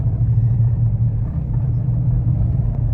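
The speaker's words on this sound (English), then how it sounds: "we have to stop on the highway because a semi-truck decided to pull out in front of us" Highway traffic with a semi-truck and cars, heard as a steady, loud low rumble of engines and tires that continues evenly without a break.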